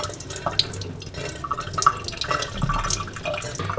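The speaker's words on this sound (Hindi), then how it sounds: "ज़्यादा तेज़ पानी से नहीं धोना इसे।" Tap water running gently over wheat flour dough being washed at a sink, a steady moderate splash with small drips and squelches from handling the dough.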